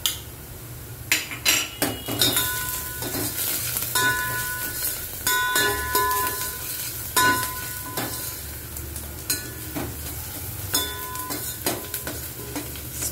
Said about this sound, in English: Stir it for 1 minute.